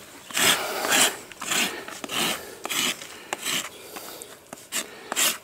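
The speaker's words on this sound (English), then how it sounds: "So you're letting the rasp do the work," A hoof rasp filing a horse's hoof, with slow rhythmic rough strokes, each a loud close scrape followed by a short pause, about a dozen in all.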